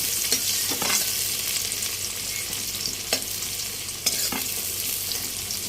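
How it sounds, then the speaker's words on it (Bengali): Onion frying in mustard oil with chicken, a steady bright sizzle with a few sharp stirring scrapes at intervals, close and continuous with no voices. "পেঁয়াজটা একটু ভেজে নেব"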